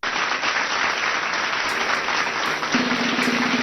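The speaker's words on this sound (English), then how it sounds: "Let's give LA a big round of applause." A big round of sustained audience applause at a dyslexia-themed event, a loud, even crowd clapping that continues throughout.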